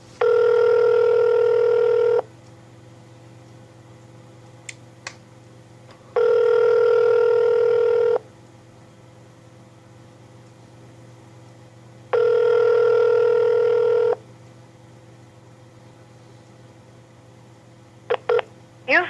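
Three evenly spaced bursts of a steady multi-tone telephone line signal, each about two seconds long with quiet gaps between, heard while an automated phone system transfers a call to the state Attorney General's office; faint clicks follow near the end.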